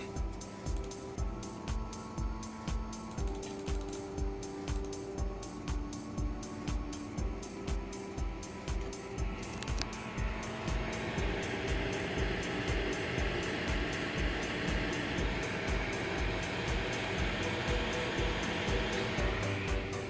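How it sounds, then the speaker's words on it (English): A Palit GTX 1070 Dual graphics card fan at 100% speed: a loud, steady whoosh with a rhythmic pulsing thump; around the midpoint the airflow rises to a stronger, brighter roar and holds there. "Let's max out the fan, see what it sounds like."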